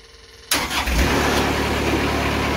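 The engine of a Timberking 2000 sawmill turns over and catches abruptly after a moment of quiet, then settles into a loud, steady running roar close by.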